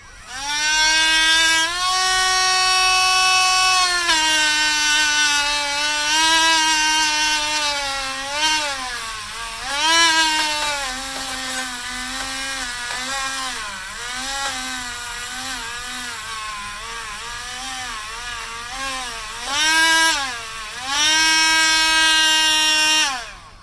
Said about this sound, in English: Dremel out with a wire wheel on it, stainless, and we're going to clean up the top of these threads first